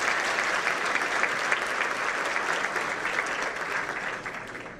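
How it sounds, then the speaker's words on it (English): Sustained audience applause at a César Chávez community breakfast, honoring dignitaries and sponsors: dense, even clapping from a large crowd holding steady for several seconds before easing slightly at the end. "One more round of applause for all of our dignitaries and all of our sponsors"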